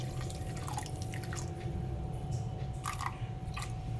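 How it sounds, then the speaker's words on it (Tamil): Water being poured over about three-quarters of a cup of semolina in a bowl while preparing vellappam batter, heard as soft close wet dripping and squishing sounds, steady and quiet throughout with no talking. "இது மூழ்கிற அளவுக்கு தண்ணி ஊற்றுறேன்"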